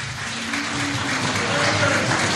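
Audience at a public independence referendum debate giving a round of applause, a loud continuous wash of clapping with a faint murmur of voices underneath.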